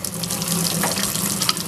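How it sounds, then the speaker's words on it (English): A tap runs at full pressure outdoors, a steady close rush of water with a constant hiss throughout and no voices. "So I'll open the water, full pressure here."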